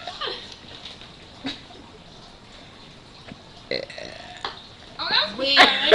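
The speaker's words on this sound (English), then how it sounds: "That's a girly girl burp for you." A teenage girl lets out burps in a belching contest, with a few short bursts early on and a louder, longer belch near the end, mixed with voices talking and laughing nearby.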